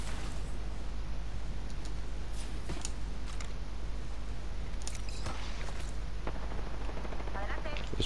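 Gunfire in the video game Apex Legends crackles in scattered sharp bursts, some distant and some nearer, over a steady game-audio drone.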